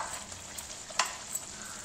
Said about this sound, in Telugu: ఒకసారి గరిటెతో మొత్తం తిప్పేసుకుందాం.